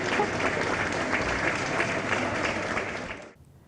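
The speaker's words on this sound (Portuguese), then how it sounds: "Em Cascais, agradeceu-se o gesto com um aplauso." A dense, even round of applause from a large crowd in Cascais holds steady for about three seconds, then cuts off abruptly into silence.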